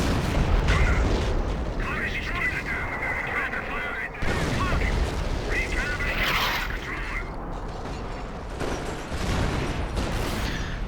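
Opening artillery barrage in a Company of Heroes 3v3 Operation Market Garden match: repeated booms and shell impacts with scattered gunfire and whistles, continuous and moderately loud beneath a commentator's voice.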